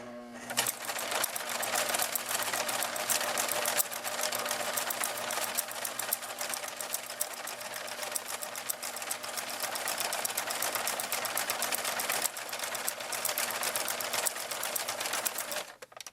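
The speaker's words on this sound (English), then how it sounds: "Just going to realign and lower the presser foot. And I will begin again." A sewing machine stitches fabric in a long continuous run, its fast even mechanical whirring and needle clatter steady and close for nearly the whole stretch before stopping at the end.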